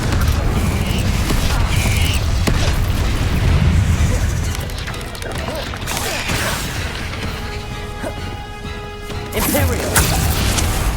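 Confringo spell explosions in a Harry Potter video game, several loud booming blasts and crashes with debris, close and dense, mixed with game effects.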